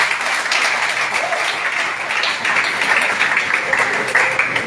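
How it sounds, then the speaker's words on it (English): Audience at a postgraduate grant award ceremony applauding, a dense, steady wash of clapping that holds at the same level throughout without speech. "That applause was enough."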